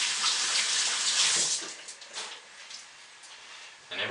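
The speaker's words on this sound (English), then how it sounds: "Rinse my hands off." Hands are rinsed under a running tap, a close hiss of splashing water that is loudest at first, then thins into uneven splatters and drips before a final burst.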